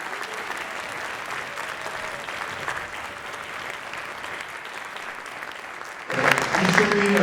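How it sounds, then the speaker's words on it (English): Audience applause for high school students after an all-county orchestra concert: steady, dense clapping from a large crowd in a hall, fairly even throughout and swelling louder near the end. "Give them a big round of applause."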